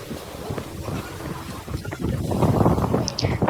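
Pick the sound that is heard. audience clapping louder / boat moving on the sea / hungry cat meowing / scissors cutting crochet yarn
boat moving on the sea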